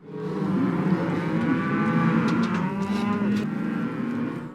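Cattle mooing continuously at a Montana ranch roundup and branding, several cows and calves lowing and overlapping in a loud, dense chorus with no pauses and no talk.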